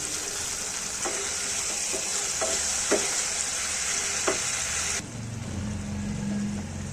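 Pointed gourd sautés with spices and a splash of water in a pan, a constant bright sizzle broken by several light spatula taps, then the frying quiets and a low hum takes over near the end.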